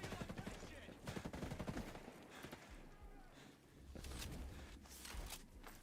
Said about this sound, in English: there is one guy shooting at me